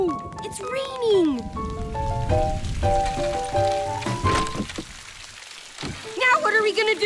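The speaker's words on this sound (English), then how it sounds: "It's raining!" Rain in a cartoon scene, a steady patter and splash under overlapping music tones and a character's voice, with the shower building toward the end.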